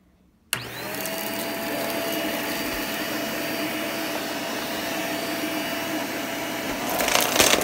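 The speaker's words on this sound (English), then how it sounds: "I'm gonna go get the next vacuum and I'll be next. I got the shark." A Shark vacuum cleaner switches on abruptly and runs with a loud, steady whine while vacuuming cardboard, the suction noise growing rougher near the end.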